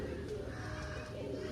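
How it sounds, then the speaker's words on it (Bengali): Pigeons cooing in a loft, a low, soft, continuous murmur of overlapping calls that fills the short stretch at moderate loudness. "আসুন এর পরের পায়রাটি দেখাই।"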